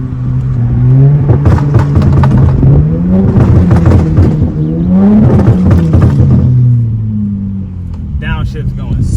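Car engine revving hard with harmonic pitch sweeps rising and falling through downshifts, loud and close, with people talking over it near a wide-body car outdoors.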